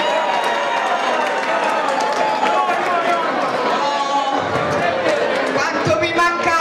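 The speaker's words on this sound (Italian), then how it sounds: "In rappresentanza delle donne sangiorgiane, Beatrice Vergari, facciamogli un applauso." An audience at a Veglioni ceraioli gala applauds Beatrice Vergari, representing the women of San Giorgio, with steady dense clapping and cheering, a lively crowd murmur and voices mixed in throughout.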